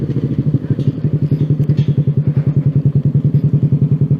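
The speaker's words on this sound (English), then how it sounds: "You hear those pops, man. You hear those pops. Way more than the Yoshimura." A 2023 Suzuki motorcycle fitted with an SC Project exhaust fires off a steady stream of loud, rapid pops and burbles, close and continuous, with a deep throbbing engine note throughout.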